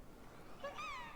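A cat lets out a single short, soft meow with a rising then falling tone, close but quiet against faint background noise.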